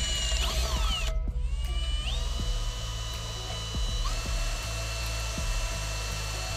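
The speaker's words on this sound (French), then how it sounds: "Le profilet mural doit être prépercé tous les 50 cm environ. Optez pour une perceuse à métal" A metal drill pre-drills a wall profile while a roof is being assembled, giving a steady, continuous high whine with a brief dip near the start, running throughout at close range.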